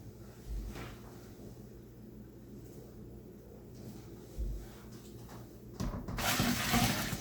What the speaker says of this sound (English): now we add water to the 23 liter mark